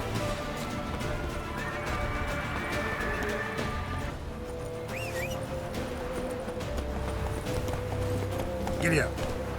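A horse gallops in The Witcher 3 video game, with steady hoofbeat clip-clops under ambient game music and sound effects, a brief whinny, and a voice speaking over it.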